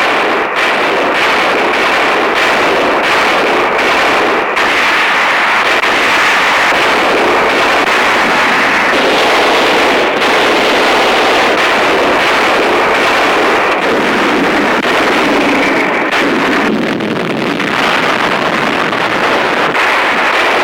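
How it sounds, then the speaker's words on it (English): Heavy artillery fire during the Pacific War battle on Okinawa: a dense, continuous, loud roar of gun blasts and rumbling detonations that keeps going for about twenty seconds, with no voices. "On land, the heaviest artillery battles of the Pacific War are raging."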